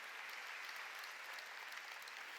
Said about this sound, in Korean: 박수로 하나님께 영광을 박수로 합니다